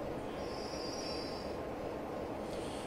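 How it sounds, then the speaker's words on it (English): A Class 33 diesel locomotive on the Great Western main line in Train Simulator 2015 brakes to a stop, its steady rumble overlaid by a thin, high wheel squeal that rises, fades and returns near the end. "Right, stopping the train."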